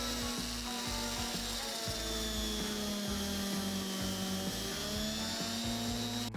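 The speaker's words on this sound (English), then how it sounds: "Next up, I'll drill some holes for the legs." A steady, loud whirring drone of a power drill boring into wood, with rough grinding scrapes running through it and no talking.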